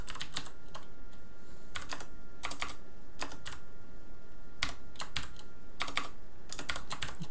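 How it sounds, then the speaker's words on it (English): Typing on a computer keyboard during a programming session, fast clustered bursts of key clicks separated by short pauses, close and fairly clear over a faint steady background hum. "Keyboard's acting weird lately"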